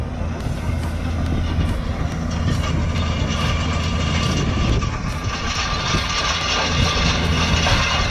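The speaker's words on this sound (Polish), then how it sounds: "Słyszycie, jak wały dzwonią?" Seed drill rollers clang on clay soil in a barley field, a steady metallic rumble and rattle of farm machinery at close range, continuous throughout with faint talk underneath.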